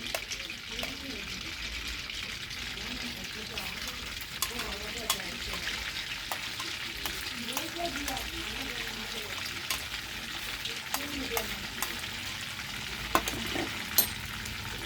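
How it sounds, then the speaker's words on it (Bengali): Garlic fries in melted butter in a pan, giving a steady soft sizzle with occasional clicks and stirring scrapes, and faint voice-like sounds intermittently underneath. "রসুনটা কিছুক্ষণ ভাজা হবে"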